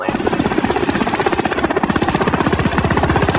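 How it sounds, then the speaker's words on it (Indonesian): A helicopter in a film, its rotor chopping in a fast steady rhythm that stays loud and close throughout the whole stretch, with no voices over it. "Joker dan Raptorman pun berangkat menggunakan helikopter"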